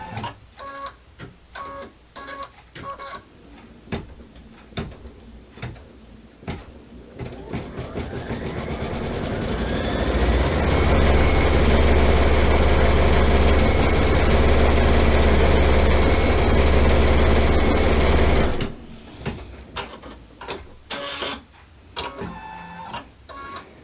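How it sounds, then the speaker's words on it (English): Sewing machine stitching corner elements onto a fabric basket, starting with a few ticks and then running in a steady, loud mechanical whir for several seconds before stopping. "I'm going to go ahead and let this finish stitching out the corner elements"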